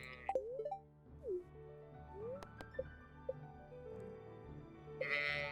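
Sheep in Stardew Valley bleat in short, cartoonish, pitched calls, several in quick succession, over quiet game music with small plops and chimes, no talking.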